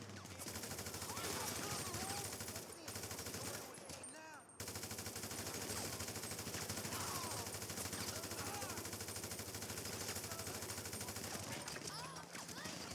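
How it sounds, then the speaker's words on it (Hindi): Bursts of automatic gunfire during a gang attack near a hospital in the video game GTA 5, rapid shots recurring through the whole stretch under a steady game background, with a voice talking over them. "तो वैसे हमने फायर किया था ना, उस चक्कर में अब हम पे फायर हो रहा है।"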